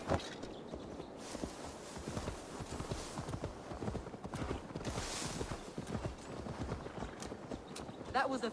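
Horse hooves clip-clopping in the video game Assassin's Creed Valhalla, a steady walking rhythm of hoofbeats under game music, with a voice speaking over it.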